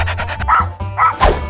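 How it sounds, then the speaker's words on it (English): A dog barks three times in quick succession, loud and close, set over a steady low hum of background music in a playful children's animal game featuring Mario. "Dog."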